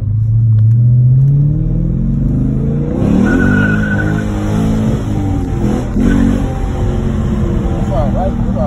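A supercharged Dodge Hellcat engine revs loudly and close, a rising and falling growl with faint tire squeal, while voices talk over it.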